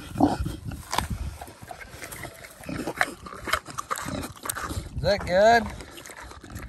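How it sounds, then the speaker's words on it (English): A boar named Damascus, offered an apple, gives grunts and a short squealing snort close by, mixed with chewing and rustling while a person talks to him. "This is my boar, Damascus."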